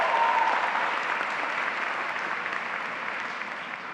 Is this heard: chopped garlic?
no